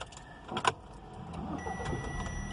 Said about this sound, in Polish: jak widzicie samochód bez problemu pali, jeździ